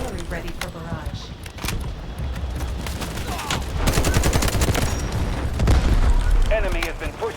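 An artillery barrage in the PC shooter Delta Force Hawk Ops, with rapid booming impacts and gunfire rolling over one another, building louder toward the end, while a voice talks over it.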